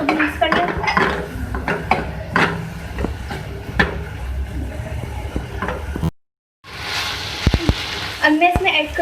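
Potatoes stirred in a pan with oil and spices, metal utensil scraping and clinking against the pan in irregular strokes alongside a soft sizzle, with a brief silent gap near the end.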